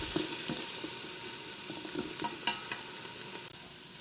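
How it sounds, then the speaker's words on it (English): Halved garlic cloves sear in an Instant Pot, a constant bright sizzle close up with occasional scraping stirs and small pops. "the Instant Pot does a very good job of searing things"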